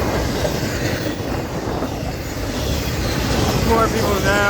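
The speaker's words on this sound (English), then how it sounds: "Big train, every train is big now in Florida." A large Florida East Coast freight train rumbles past close by, a loud continuous roar of rolling wheels and rail noise, with faint squealing wheel tones rising toward the end.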